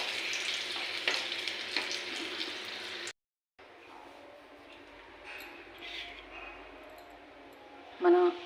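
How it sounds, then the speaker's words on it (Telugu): Green chillies fry in hot oil with a soft, steady sizzle and crackle that cuts out briefly, then returns quieter, ending in a louder burst of sizzling near the end. "ఇప్పుడు ఈ పచ్చిమిర్చి వేగిపోయినాయండి"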